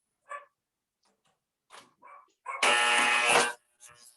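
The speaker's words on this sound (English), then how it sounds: "Oh, a buzzer." A harsh electric buzzer sounds once, loud and steady for about a second, after a few faint, brief voices.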